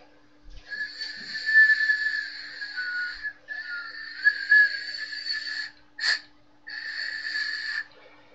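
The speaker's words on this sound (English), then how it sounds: "If I plug this hole right here and blow over the top" Breath blown across a plugged hole makes a breathy, airy improvised whistle, sounding in three sustained tones of about two seconds each with a short puff between them, close and fairly loud.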